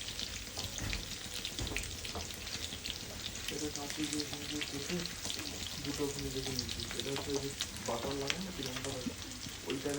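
Seekh kebab pieces fry in hot oil in a pan, a steady close sizzle and bubbling, with a voice speaking intermittently over it.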